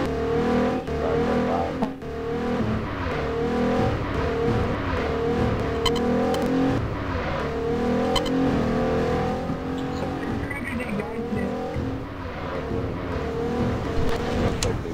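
Car engine driving steadily in a Walking Dead roleplay video game, a loud sustained drone with shifting revs and gear changes, little else audible.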